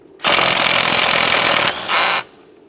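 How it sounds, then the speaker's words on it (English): A power tool loosens the 21mm steering wheel nut on a 2005-2010 Chevrolet Cobalt, one loud continuous burst of about two seconds with a brief dip near the end before it stops, close by with no talk. "So we'll go ahead and remove the nut, and then I'm going to show you how to mark the area."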